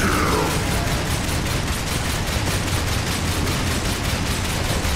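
Sustained rapid gunfire in the Darksiders video game, a continuous loud fusillade of shots with a steady rattling pulse, close and unbroken throughout.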